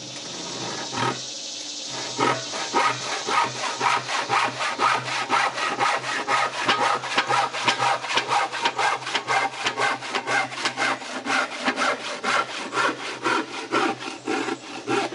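A handsaw cuts through wood in steady, rhythmic back-and-forth strokes, close and rasping, continuing for many strokes without pause.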